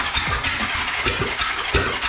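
A loud, raw vintage motorcycle engine with no exhaust running close by, firing in rough, uneven pulses with sharp bursts standing out above a rumbling roar.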